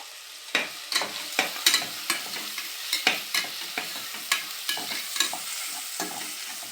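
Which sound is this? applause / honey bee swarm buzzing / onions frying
onions frying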